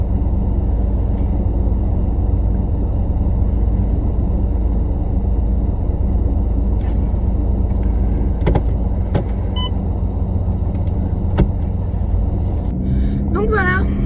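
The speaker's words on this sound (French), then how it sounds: "là je rentre à la maison et puis je vais garer ma voiture" A car rumbles steadily from inside the cabin on the drive home, a loud, constant low engine and road drone, with a few clicks and a brief mechanical whir near the end as it parks.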